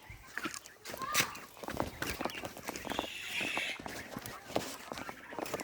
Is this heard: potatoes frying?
no